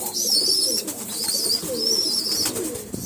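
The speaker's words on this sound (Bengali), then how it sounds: "আর এই যে দেখুন পায়রাগুলো খাচ্ছে।" Pigeons coo in a loft, soft repeated throaty calls close by with light rustling and chirps, no talk.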